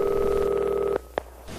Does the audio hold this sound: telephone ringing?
yes